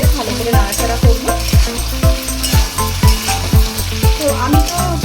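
Fried chicken sizzles loudly in a pan with soy sauce while being stirred and tossed, a close, steady frying hiss punctuated by rapid, rhythmic scrapes and clanks of the utensil against the pan.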